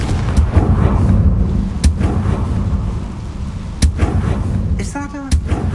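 Confringo fire spell blast in the Hogwarts Legacy video game, a loud sustained rumbling roar with sharp booming hits, followed near the end by a brief spoken voice.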